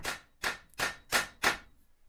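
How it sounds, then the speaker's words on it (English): Five sharp metallic strikes from a copper hammer hitting a Ford Focus Mk3 front wheel hub, evenly spaced, close and fairly loud, each ringing briefly before the next blow. "we're using the copper hide hammer, using the copper side, just bashing onto that hub"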